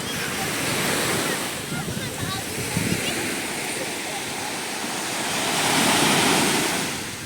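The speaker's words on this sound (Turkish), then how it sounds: "Şu sesin muhteşemliğine bakın. Dalgalar sahile vururken" Waves wash onto the beach at Side, Turkey, in a broad, continuous roar, swelling louder toward the end, with wind buffeting the microphone.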